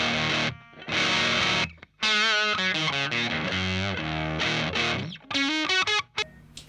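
Electric guitar through a fuzz pedal set to minimum distortion, with near-overdrive grit: two strummed chords followed by a busy run of single notes and short riffs, loud and close with no voices.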